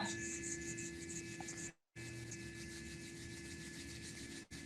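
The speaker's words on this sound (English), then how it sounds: "And you can rub your hands together." Palms rubbing together during a calm guided breathing exercise, a steady close dry swishing friction that stops briefly midway and then resumes, with no talking.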